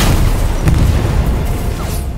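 A game strike detonates behind a tank on an infantry and armor battlefield, giving one heavy, rumbling blast that fills the low end and rolls on steadily without any clear individual reports.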